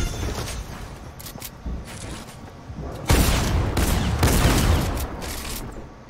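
Fortnite gunfire in a Zone Wars match, scattered shots at first, then a louder, denser barrage of close blasts in the second half, with no speech.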